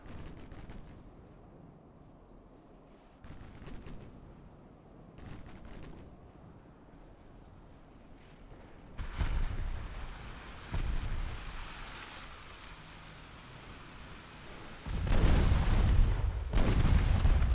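Naval gunfire in the Ultimate Admiral: Dreadnoughts game during a 1955 Ottoman campaign long-range artillery duel: heavy booming salvos arrive in several spaced bursts, the loudest near the end, with rumbling between them and no voices.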